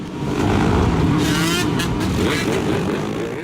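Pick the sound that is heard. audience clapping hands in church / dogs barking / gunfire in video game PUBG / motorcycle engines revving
motorcycle engines revving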